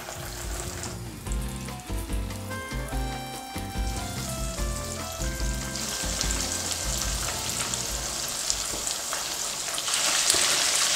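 Food fries in a shallow layer of hot oil in a pan, giving a steady close sizzle and crackle with occasional stirring sounds, and no one speaks.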